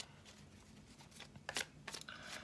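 Tarot cards being shuffled by hand, quiet papery riffles and slaps in a few short bursts, close and faint with no voices.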